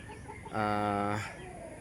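A giant Indio Gigante rooster gives one drawn-out, harmonic cluck lasting under a second, close and clear against quiet farmyard background.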